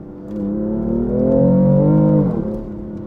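A BMW's engine revs up with turbo boost, a close, smooth rising drone that swells, holds strong, then eases off, with no voices.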